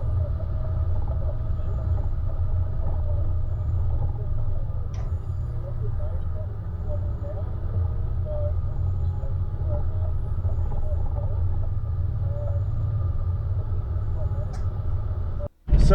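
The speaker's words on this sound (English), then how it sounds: "this section here would be all second gear low range with very minimal braking." A 76 series 4WD descends a steep track on Mt Elliot near Corryong in second gear low range, its engine a steady, deep, close rumble holding constant throughout before cutting off abruptly at the end.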